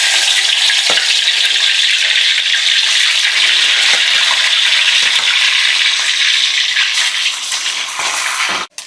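Snakehead fish frying hard in hot oil, a loud, steady sizzle with bubbling crackle running the whole time, close up and alone before cutting off at the very end.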